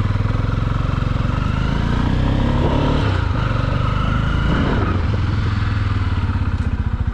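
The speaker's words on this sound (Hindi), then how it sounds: "तो चलिए स्टार्ट कर लेते बाइक को।" A Bajaj Pulsar 250 motorcycle engine runs loud and close with a steady, rapid thumping beat and some mechanical clatter, with no speech.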